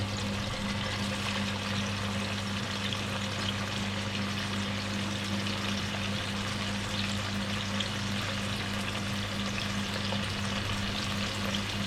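Barramundi fish frying Koli style in a Mumbai kitchen gives a dense, unbroken sizzle in the pan, loud and even throughout, with a low steady hum underneath.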